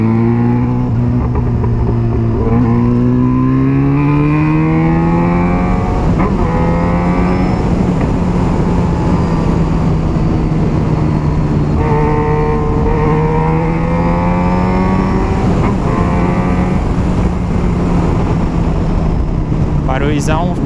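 A Yamaha XJ6 motorcycle fitted with a Jeskap aftermarket exhaust runs loud and close, its engine note rising and falling through repeated revs and gear changes in a continuous ride.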